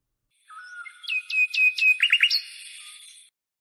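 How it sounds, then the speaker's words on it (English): A fictional silo bird sings a bright whistled melody of rising chirps and quick trills, close and clear, alone for about three seconds. "A silo bird flew towards Arila, landed on her hand, looked at her with its luminescent green eyes, and chirped a beautiful melody."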